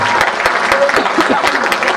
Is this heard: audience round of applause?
yes